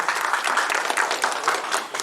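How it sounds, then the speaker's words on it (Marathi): An audience at a cultural community gathering claps loudly and continuously, a dense, even wash of applause. "सर्वांनी जोरदार टाळ्या वाजवायच्या आहेत"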